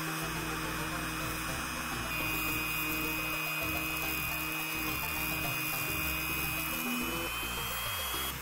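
A Dremel rotary tool cuts through the plastic case of an NES console, giving a continuous high-pitched whine with a grinding edge that holds steady and loud throughout, close up with no talking.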